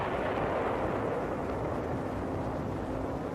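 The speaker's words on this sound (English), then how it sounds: "From the ridges, a Jap barrage hampers unloading operations." A wartime artillery barrage shelling a volcanic-sand landing beach, heard as a continuous dense low rumble and roar without distinct individual blasts, steady and heavy throughout.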